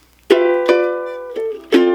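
Ukulele strumming the chords of a song, four bright strummed chords ringing out close and clear, alone with no talking.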